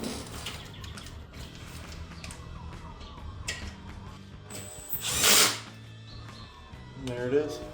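A power tool drives bolts into an aluminum radiator on a 2009-2017 HEMI Charger, short whirring bursts and ratcheting sounds amid background noise, with a louder burst mid-clip and talking around it.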